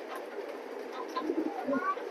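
Racing pigeons in a loft cooing softly: a few low, throaty coos close by and faint, with light background hiss and a brief higher chirp near the end.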